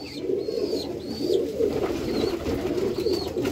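Pigeons cooing in a loft, soft low rolling coos repeating close by, with a few higher whistly chirps over a steady background hum.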